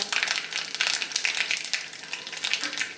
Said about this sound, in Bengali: এবার আমি এর মধ্যে ফোড়নের জন্য দেব সর্ষে, দুটো শুকনো লঙ্কা।